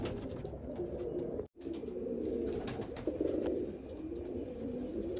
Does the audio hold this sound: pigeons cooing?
yes